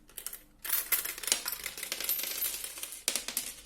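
Coins drop into a cat-shaped coin bank toy, falling into it in a dense metallic clatter and rattle. The bursts come after a short quiet moment, with a second burst near the end.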